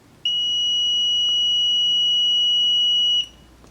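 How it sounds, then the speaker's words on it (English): A multimeter's continuity beep sounds while checking motor leads during a motor rewinding check: a single steady electronic tone lasting about three seconds, clear and close, then cutting off, with no talking. "So between any 2 of the 3, we got continuity with an audible sound."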